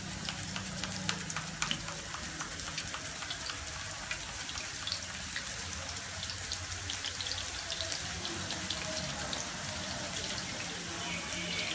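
Banana slices drop straight from a wafer slicer into boiling oil in an iron kadai and fry with a dense, steady crackling sizzle. A voice speaks faintly underneath.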